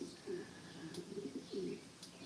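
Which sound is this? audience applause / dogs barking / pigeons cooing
pigeons cooing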